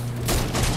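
Short burst of minigun fire in Fortnite, a dense rapid rattle lasting under a second, loud and close.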